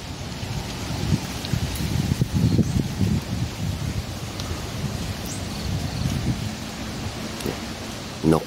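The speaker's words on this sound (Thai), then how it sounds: "ฟังเสียงลมแรงมากๆเลย" Very strong wind sweeps through a canal-side garden at Sattahip, a steady low rumbling roar with bursts of buffeting against the microphone, loud and close, with rustling in the background and no speech.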